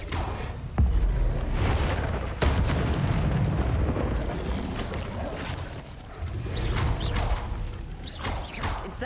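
The Incendio fire spell is cast in Hogwarts Legacy, producing whooshing bursts and booming fiery impacts over rumbling game ambience, repeated several times, with no talk.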